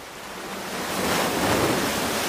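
Sea waves break on a beach shore in a broad, rising wash of surf noise that swells louder and stays full and continuous, with no voices.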